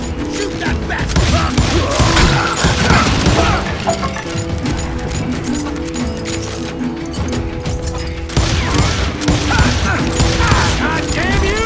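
Dense gunfire and crashing impacts from the Wild West shooter Call of Juarez: Gunslinger, loud and continuous throughout, with repeated sharp bursts mixed with clanks and a shouting voice.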